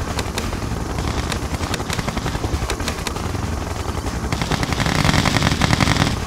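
The Siege Chopper helicopter in the video game Red Alert 2 gives a steady, rapid rotor chop that is loud and close, with rattling bursts of gunfire mixed in and growing heavier toward the end.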